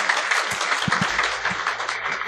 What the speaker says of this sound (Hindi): तालियां इन बच्चों के लिए जी भरपूर